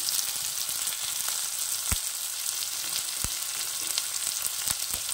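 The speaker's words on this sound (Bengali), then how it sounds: "এখন এটা একটু নেড়ে চেড়ে ভেজে নেব।" Garlic and slit green chilli fry in a pan with a steady, close sizzle, broken now and then by sharp pops and taps; no one speaks.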